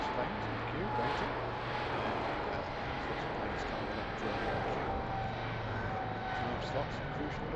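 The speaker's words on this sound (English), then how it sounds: "You can see all the planes in the background, they're queuing up" Airplanes at London Heathrow airport give off a steady, distant engine roar that continues under someone talking.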